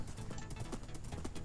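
Quick, rhythmic hoofbeats of a galloping horse in a game, fairly quiet and lasting only a moment.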